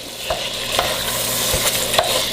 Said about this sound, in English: Now I'm just going to mix it all up